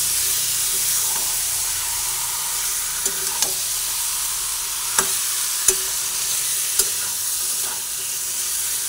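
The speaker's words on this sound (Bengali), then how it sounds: "এইভাবে বেশ অনেকক্ষণ আমি কষাতে থাকবো। নাড়াচাড়া করতে করতে দেখুন তেল বেরিয়ে এসেছে।" Malai chicken cooks in oil in a pan, giving a steady soft sizzle with a few sharp scraping knocks of a spatula as it is stirred, heard alone.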